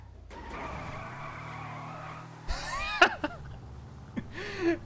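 In-game car in GTA 5 roleplay cruising with a low engine drone, then tires screeching in several sharp skids and squeals toward the end, with brief faint voices.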